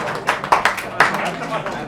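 An audience claps at a Naturals salon event, a short run of scattered, irregular hand claps with a few sharp louder strikes. People talk in the background.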